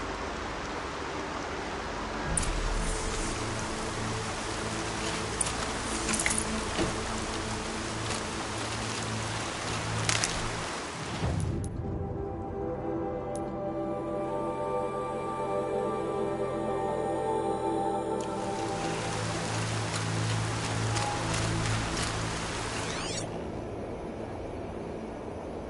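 Steady rain hisses in the video game Horizon, a dense broadband patter that drops away briefly midway and then returns, with a low ambient drone beneath.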